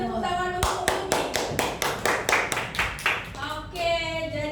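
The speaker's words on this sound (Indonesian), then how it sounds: "tepuk tangan untuk Yumi" Clapping during a classroom teaching presentation: a run of about a dozen sharp, evenly spaced claps at a moderate, slightly uneven rhythm, close and fairly loud, with voices talking before and after.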